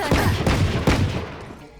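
Gunfire from an unusual weapon skin in a tactical shooter game: three or four loud, sharp bursts in quick succession over about a second, then a decaying tail, with no talk over it.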